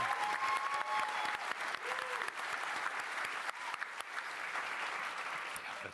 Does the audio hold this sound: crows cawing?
no